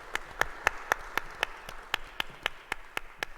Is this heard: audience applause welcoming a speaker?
yes